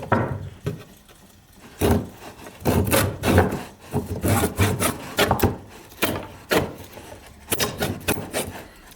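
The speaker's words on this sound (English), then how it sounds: "This is really hard sawing with the left hand." A hand saw cuts through an oil-wet wooden mallet handle, with bursts of rasping strokes in an uneven rhythm and short pauses between them, close up and fairly loud.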